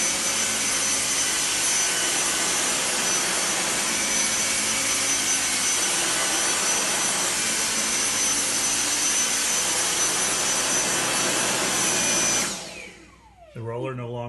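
Dyson DC59 cordless vacuum with its floor attachment motor freshly repaired, running loud and steady as a continuous whine and whoosh for about twelve seconds before cutting off, followed by a brief voice.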